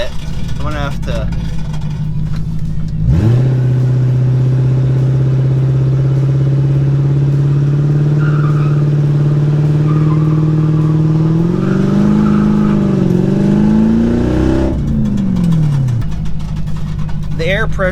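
A Subaru race car prepped for burnouts revs its engine hard, holding a steady high drone for several seconds, climbing in pitch before dropping back toward idle, loud and close.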